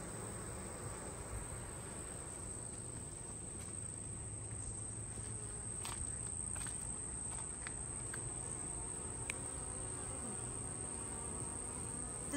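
Honey bees buzz in a bee yard as a faint, continuous hum, with a few brief clicks and ticks scattered across it and no voices.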